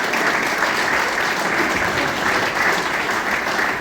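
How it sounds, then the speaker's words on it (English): Steady, loud applause from a crowd at a football club gala dinner, a continuous dense wash of clapping with no break throughout. "it deserves a big round of applause"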